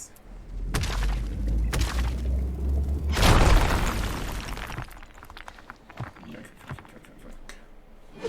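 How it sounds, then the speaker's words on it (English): A rock explosion in the video game RuneScape: Dragonwilds bursts with a loud boom and shattering crash mid-clip, followed by scattered debris clatter, after a few sharper knocks. "Rock explosion."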